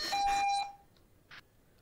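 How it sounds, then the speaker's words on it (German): A fire brigade pager gives a short electronic beep tone that stops after half a second, followed by a couple of faint clicks in near silence. "mach den Pieper aus"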